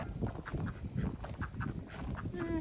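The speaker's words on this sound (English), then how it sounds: "Here are the ducks." Ducks on a homestead quack and honk in a soft, irregular chatter, a few calls overlapping at a modest distance.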